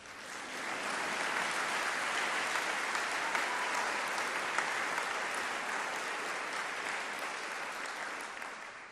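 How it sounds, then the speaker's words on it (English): An audience at a community awards event applauds, a dense, sustained wash of clapping that swells in within the first second, holds steady, then tapers slightly at the end. "So a round of applause for my brother for not dying."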